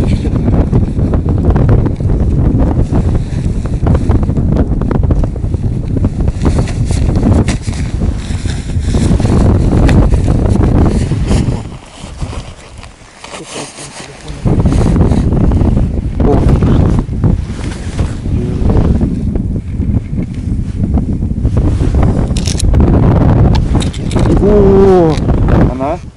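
Strong wind roars over open water during a fishing outing, a loud, continuous buffeting noise on the microphone that drops briefly near the middle before surging back, with people talking underneath.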